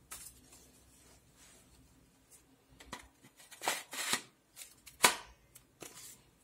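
A CYMA P.1158D airsoft rifle being put together, with scattered plastic and metal clicks and snaps that build to several sharper clicks as parts lock into place, close and fairly loud.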